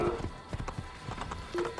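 Horse hooves clip-clopping in Assassin's Creed, a fast, irregular run of close thuds at moderate volume with a voice talking briefly over them.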